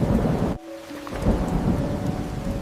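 A thunderstorm with steady heavy rain and rolling thunder, a loud crack cutting off at about half a second and then the downpour and rumble building back, close and continuous with no voices.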